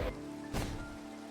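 Rain in Minecraft falls as a faint, steady patter for a moment beneath a tree, with one slightly louder swell of droplets.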